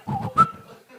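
A person whistles a short burst of chirpy, warbling notes imitating the droid R2-D2 from Star Wars, with a bright rising squeal in the middle, heard alone and up close.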